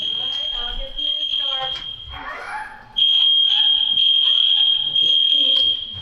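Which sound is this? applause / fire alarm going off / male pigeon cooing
fire alarm going off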